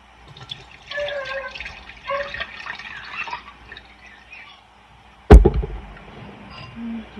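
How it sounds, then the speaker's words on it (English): Ginger bug liquid strained through a kitchen strainer gives a soft, close trickling and dripping, with a faint voice over it and one sharp clink partway through. "we're going to strain up some of our ginger bug here"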